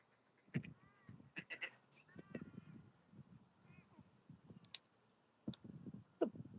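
Ducks on water calling with soft quacks and splashing as they dive for vines, scattered bursts close by with quiet gaps between.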